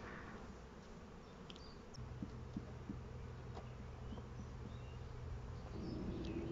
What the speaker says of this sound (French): Je secoue les abeilles qui restent sur les parois du corps.